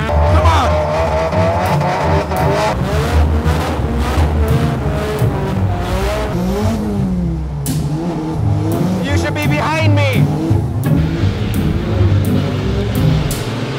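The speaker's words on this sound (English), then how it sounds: "Other drivers seem to be ignoring him and drifting without him." Cars drifting on a track at a drift event, with engines revving and howling, long rising and falling tire squeals and skids, and loud passing cars, while people talk over it.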